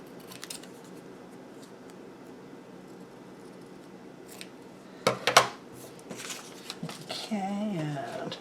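Scissors trimming paper ephemera against a backing sheet: a quiet stretch of handling and rustle, then a short, crisp burst of snipping partway through, followed by lighter paper movement.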